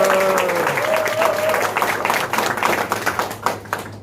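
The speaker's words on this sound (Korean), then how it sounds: "여러분 박수로 환영해 주세요." An audience at a party members' meeting in Chungbuk applauds to welcome a speaker, with dense, lively clapping that swells and flickers for several seconds and briefly overlaps a voice at the start.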